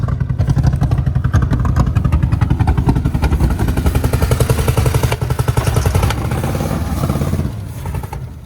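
An old motorcycle engine with a broken motor mount runs up close, a loud, rapid, steady clattering putter that eases slightly near the end.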